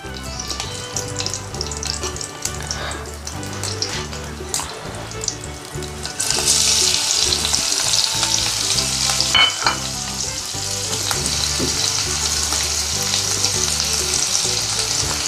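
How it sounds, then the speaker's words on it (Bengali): Bay leaves sizzle in hot ghee for fried rice, a loud, continuous crackling fry that grows brighter and more intense partway through, with faint stirring clinks and no talk. "তেজপাতা দিলাম ঘিয়েতে"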